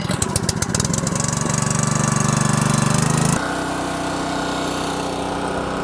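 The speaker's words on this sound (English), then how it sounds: "Start up the 3465, a little bit of choke." The gas engine of a 3465 log splitter starts with a little choke and roars into a loud, steady run, then settles to a lower, even drone.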